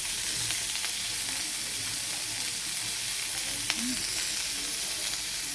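Garlic added to a pan with onion and green chillies, frying in oil with a steady, even sizzle and a few faint stirring clicks, close and without talk.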